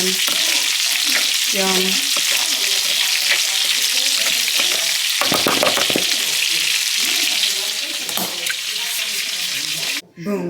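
Food is tossed and fried in a hot pan, with loud continuous sizzling and scraping stir noises throughout, and a voice speaks briefly.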